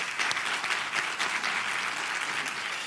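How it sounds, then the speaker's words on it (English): An audience gives a round of applause at a panel discussion on the aftermath of Hurricane Katrina, a full, even sheet of clapping from many people that holds steady throughout. "Give them a round of applause."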